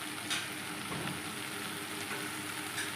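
A steady hot-oil sizzle rises from a pan as chili goes into a Bengali fig curry (dumurer dalna) being cooked with salt and spices, a continuous crackling hiss with soft stirring clicks.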